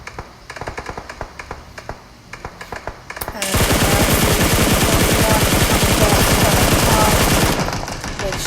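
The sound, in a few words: machine gun fire in the video game PUBG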